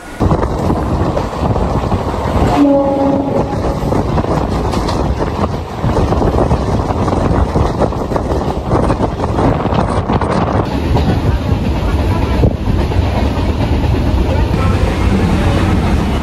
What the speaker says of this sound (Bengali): একদম কিন্তু কারেক্ট টাইমে আমাদের ট্রেন ছেড়ে দিল শিয়ালদা স্টেশনের 20 নম্বর প্ল্যাটফর্ম থেকে